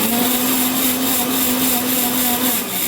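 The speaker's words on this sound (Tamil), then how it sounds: "இப்போ கசகசாவும் தேங்காயும் அரைச்சிடுவோம், பச்சை மிளகாவையும்." A kitchen mixer grinder runs steadily, grinding poppy seeds, coconut and green chillies for white chicken kurma, giving a loud, continuous whirring drone with no pauses over the short stretch.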